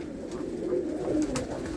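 Pigeons with butter-coloured tails coo softly in a loft with a low, throaty burbling murmur that continues steadily throughout.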